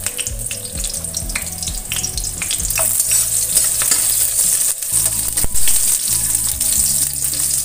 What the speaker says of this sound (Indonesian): Di sini setelah panas minyaknya, masukkan bawang merah dan bawang putihnya.